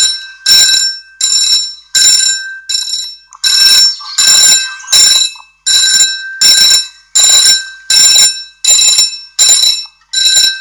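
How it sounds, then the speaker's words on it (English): Mechanical bells at a tram level crossing ring loud and close in a steady series of about a dozen clanging strokes, each with a bright metallic ring that fades before the next. "are the mechanical bells that tram in level crossing"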